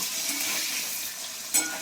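Eggs fry in a pan with a steady, moderate hiss of hot oil, broken near the end by a brief sharp clink or scrape.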